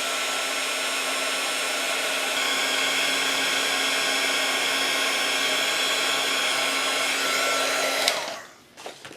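A heat tool blows a steady, loud, hissing roar while heat setting embossing on a handmade Valentine card, then cuts off abruptly near the end.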